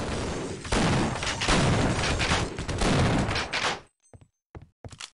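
Sustained gunfire in Half-Life: Opposing Force, dense overlapping shots and booms roaring for several seconds, then cutting off into near silence broken by a few sharp isolated shots.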